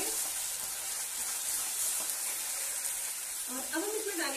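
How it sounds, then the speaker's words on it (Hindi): Ground onion and garlic paste frying in hot oil with cumin and asafoetida for a cabbage and potato dish, giving a steady, close, dense sizzle that runs throughout, with a voice briefly heard near the end. "और अब हम डालेंगे इसमें प्याज लहसुन जो हमने पीस के रखा था, और अब हम इसे मिक्स कर देंगे।"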